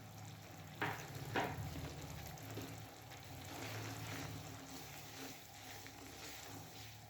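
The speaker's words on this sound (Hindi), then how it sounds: "ये डालने के बाद सूजी को मैं इसमें अच्छे से पकाऊंगी।" Semolina cooking in cream for malai halwa, a soft steady sizzle and bubbling with a couple of brief stirring scrapes, faint and close.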